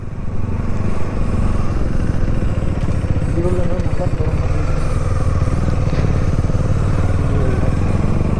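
A motorbike engine drones steadily under way on a hill road around Yercaud, a loud, continuous mid-pitched rumble with faint voices mixed in.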